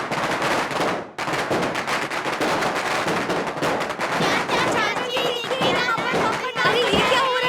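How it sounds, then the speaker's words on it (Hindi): Firecrackers burst in rapid irregular volleys through a dubbed Hindi action film scene, crackling loudly with dense overlapping pops while voices shout and talk over them. "अरे ये पटाखा का आवाज कैसा है?"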